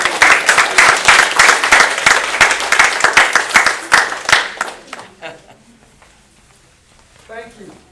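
An audience at a civil disobedience debate applauds the mayor with dense, loud clapping for about five seconds before it fades to a few scattered claps, then quiet murmurs and a voice.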